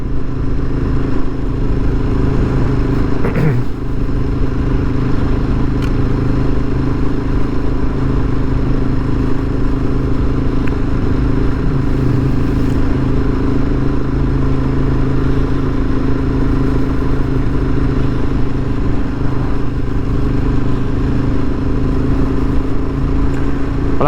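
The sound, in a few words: Ducati 848 motorcycle riding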